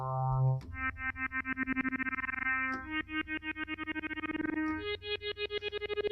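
Distorted Hydrasynth synthesizer tone with an amp bounce effect, pulsing in rapid rhythmic bursts that speed up like a bouncing ball, shifting through a few sustained pitches, loud and upfront.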